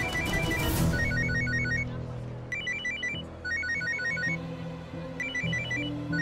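A phone ringtone rings in repeated bursts of a bright electronic melody at a steady rhythm, clear and fairly close, over a low background hum.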